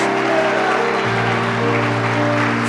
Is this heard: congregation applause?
yes